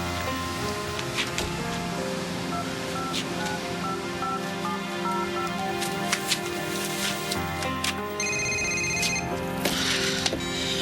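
Telephone ringing in repeated electronic trills, fairly loud and close, with a steady background wash like surf or rain beneath it and no talk.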